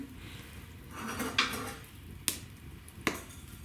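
Dishes and cutlery clink and clatter while tea is being made, a quiet rustle of handling broken by a couple of sharp metallic knocks, close by and without talking.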